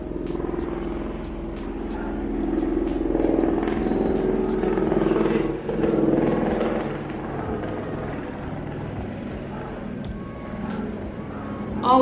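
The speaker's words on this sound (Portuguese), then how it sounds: "Ó, o avião!" An airplane passes overhead above a house, a broad steady rumble of engine noise that swells and holds through the stretch, with a voice talking over it.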